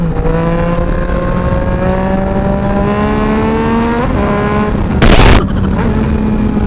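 A Yamaha Tracer 900 motorcycle with a 900cc crossplane CP3 triple pulls hard on the road, its engine note climbing steadily as it accelerates, with a short burst of wind or rustling noise near the end.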